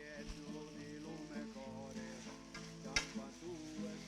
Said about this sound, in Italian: Saltiamo bene, aggiungiamo un po' di prezzemolo